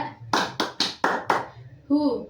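Hand claps in a group counseling ice-breaker clap game: five sharp, evenly spaced claps close by, followed by a brief voice at the end.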